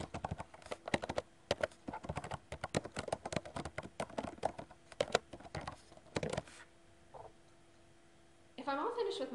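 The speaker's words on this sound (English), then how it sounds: "add a message, and then type my response or my question to Jane." Typing on a computer keyboard while composing an email, a quick run of close key clicks in uneven bursts that stops, leaving a brief lull before a different sound.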